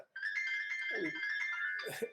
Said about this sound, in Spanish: y suena un teléfono